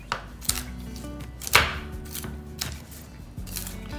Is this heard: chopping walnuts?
yes